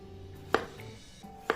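Two sharp knife slices cutting peeled potatoes into rounds onto a board, about a second apart, close and clear with faint background hum.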